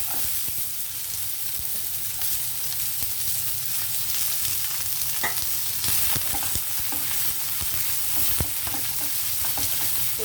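Onions fry with lentils in a pan for a raw plantain stir-fry, giving a continuous close sizzle punctuated by intermittent knocks and scrapes of stirring and no talking.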